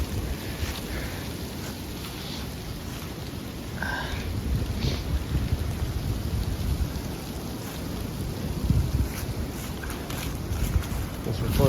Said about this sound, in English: Wind's picking up, snow's picking up.